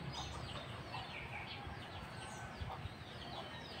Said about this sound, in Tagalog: Habol ng manok